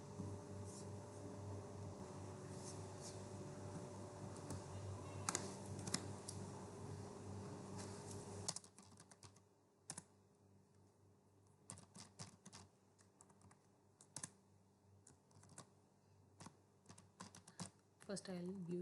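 Keys clatter on a computer keyboard while React JS code for a web app's navbar is typed, with irregular close clicks and short rapid runs, at first under a steady background hum and then in quieter surroundings.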